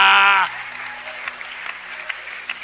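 Church congregation at a youth gathering clapping to acclaim the Lord, a brief burst of applause under a raised voice that drops away, leaving scattered light claps and murmurs.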